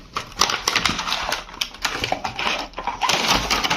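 Box of an electronic pedicure tool set being opened, with irregular crinkling, tearing and rustling of packaging, close and moderately loud, in choppy bursts without speech.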